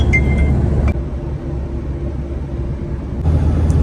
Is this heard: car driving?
yes